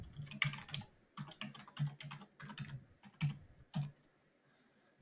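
Someone types a password on a computer keyboard, a close, quiet run of quick key clicks in short bursts with small pauses between them, and the clicking stops near the end.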